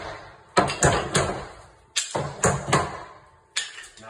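Wooden blocks are knocked off the frame of a pre-hung interior door, several loud, close hammer-like thumps in clusters with short pauses between.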